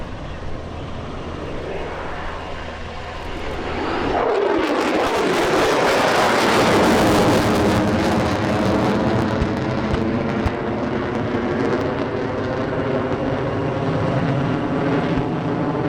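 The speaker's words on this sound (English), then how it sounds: "2 F-35s from the 115th Fighter Wing conducted multiple passes to simulate close air support" Two F-35 fighter jets from the 115th Fighter Wing make low passes at a military airshow, simulating close air support; a loud, tearing roar swells suddenly and stays heavy, with falling Doppler tones as the jets sweep past.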